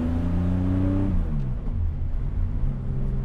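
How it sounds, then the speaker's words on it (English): A 1980 Porsche 911 engine hums and revs through gear changes, its pitch rising, dropping, then climbing again as the car drives along, heard from inside. "Let's go for a ride."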